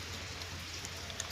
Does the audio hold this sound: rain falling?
yes